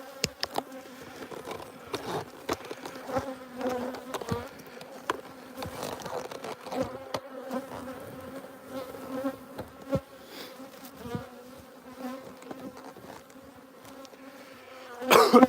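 Honey bees hum and buzz steadily from an opened beehive worked without a smoker, a close, continuous drone with small bumps and knocks from handling the hive, rising in loudness near the end.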